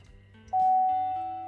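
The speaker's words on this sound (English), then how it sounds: "Excuse the beeping" A steady electronic warning chime rings from a 2014-2018 Chevrolet Silverado or GMC Sierra pickup as the key is turned to the on position, a sustained tone starting partway through, loud and close.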